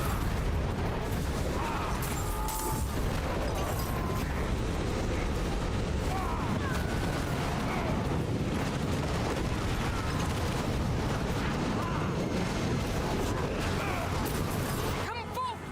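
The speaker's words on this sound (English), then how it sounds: "Now I have lava exploding out of the ground." Lava bursts from the ground in a video game with dense rumbling blasts and crackling eruptions, loud and continuous, layered with rattling mechanical textures throughout.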